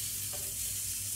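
Onions fry in a pan, giving a soft, steady sizzle that stays fairly quiet and even throughout, with no voices over it.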